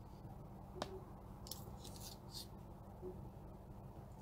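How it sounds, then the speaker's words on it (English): Scissors snip through a loose strand of crochet yarn near a magic ring, a quiet crisp cut or two over a faint background hum. "Cutting this strand away"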